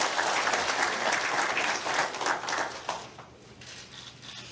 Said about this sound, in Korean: 자리해 주신 문재인 더불어민주당 후보를 박수로 맞아주십시오.